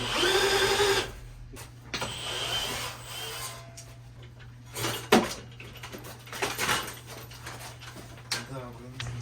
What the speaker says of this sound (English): M12 drill from Milwaukee works just fine.